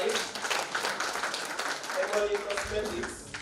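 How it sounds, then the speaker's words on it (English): An audience claps at a live-streamed children's hospital event, a steady patter of applause running throughout, partly under a person talking. "Let's clap for her."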